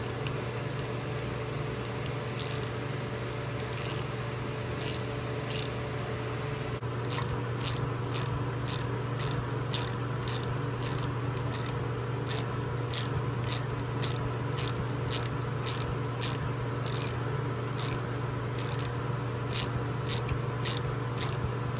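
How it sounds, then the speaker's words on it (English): A thread tap is worked by hand through a stud hole, making a steady series of sharp, regular scraping clicks over a constant mechanical hum, close and moderately loud with no talking. "I'm gonna go ahead and grab the tap and run it through this hole"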